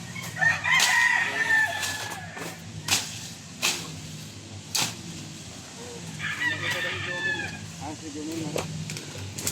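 Roosters crow a few times against a busy outdoor background, with people talking nearby and scattered sharp knocks.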